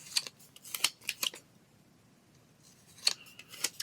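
Scissors cutting paper in a craft session, a few quick snips in a cluster, then a pause and two more snips, close and crisp with no talking.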